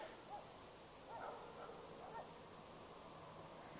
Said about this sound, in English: And just getting those dogs in the background